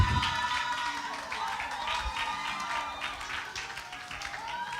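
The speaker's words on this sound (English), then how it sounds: "Don't stop clapping till she gets here." An audience at King's Business and Career Expo 2.0 claps continuously in a dense, fairly distant wash of applause, with faint music and murmuring crowd voices underneath.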